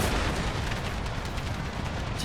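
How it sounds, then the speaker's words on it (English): Artillery landing in an Empire: Total War battle, a dense, constant roar of overlapping blasts and rumbling impacts that stays loud and packed for the whole stretch. "Tons of artillery landing right there."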